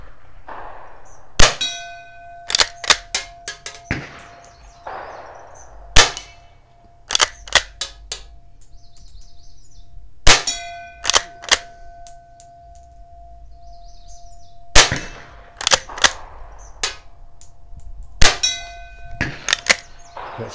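A Winchester 1890 rifle firing .22 CB shorts outdoors, each sharp crack followed by the bright, ringing ping of a steel gong. Shots come in irregular clusters over about twenty seconds, and the tone lingers between hits.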